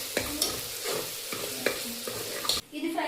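Ginger garlic paste frying in a pot after onions, stirred with repeated scraping strokes roughly every half second over a constant crackling sizzle, ending with an abrupt break.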